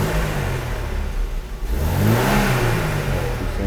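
A Mercedes-Benz W123 230E, just repaired at the fuel distributor, revs up from idle in a steady rising swell before settling, with no voices over it.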